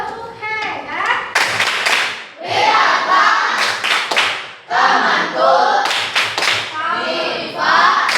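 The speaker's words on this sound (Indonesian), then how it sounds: "Kita kasih tepuk hebat untuk Diva." Classroom of sixth-grade children at an Indonesian elementary school clapping together in a rhythmic 'tepuk hebat' cheer, loud bursts of claps repeating in patterned groups with brief pauses between, teacher and children's voices mixed in.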